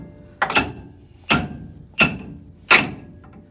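Four hard, metallic hammer strikes on a vehicle steering gear box land at a steady, unhurried pace, each one ringing briefly before the next blow.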